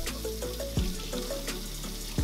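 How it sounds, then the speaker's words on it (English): Cold tap water runs steadily over a block of tofu in a kitchen sink, a constant close splashing rush with small gurgles and clunks of handling. "Carefully take it out of the package and run it under some cold water."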